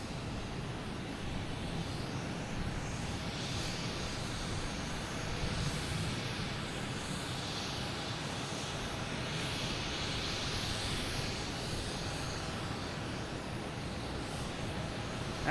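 A JetBlue Embraer E190 jet airliner arriving at Boston Logan Airport, a steady broad engine roar that stays fairly loud and constant as it passes, heard alone without talk.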